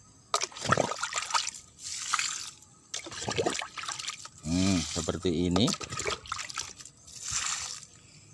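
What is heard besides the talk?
pouring water from a dipper to water a starfruit tree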